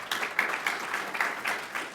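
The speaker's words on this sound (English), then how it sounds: "Please give them a welcome and a warm round of applause." Audience at a BSidesDFW security conference talk applauding, a moderate spread of clapping from a room that continues steadily for a couple of seconds, with no voices over it.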